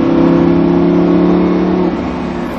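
Lamborghini Huracán accelerating on the Mérignac racetrack, a close, loud, steady engine drone held for about two seconds before easing off.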